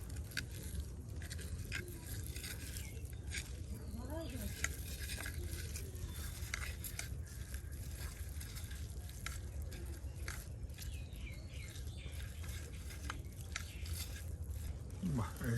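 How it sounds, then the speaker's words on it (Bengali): Chilies and taki fish frying in a pan for a Bangladeshi fish bharta, a continuous soft sizzle with light stirring and scraping, steady and close throughout. "এই যে টাকি মাছ ভর্তার জন্য এই মরিচগুলি আর মাছগুলি গলানো হচ্ছে"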